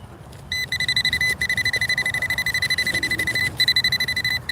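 A handheld Bounty Hunter Tracker metal detector beeps over a buried pull tab during a morning coin hunt, giving a loud, steady, rapid run of high electronic pulses, near and alone, with a few brief gaps.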